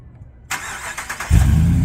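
A Ram pickup truck engine cranks and catches at close range: a short starter whir, then a loud low rumble as it fires and settles into a steady idle.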